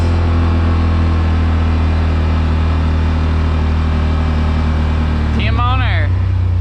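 Rmax 1000 side-by-side with an Alba tune and exhaust tip idling with a steady low drone, then revving hard near the end as it accelerates, engine pitch climbing quickly in a rising sweep.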